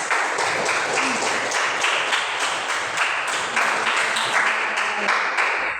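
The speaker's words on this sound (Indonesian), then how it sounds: "Ya, tepuk tangan." Students in a classroom break into applause at the end of a lesson, a dense run of hand claps with distinct individual claps standing out, fairly close and continuous.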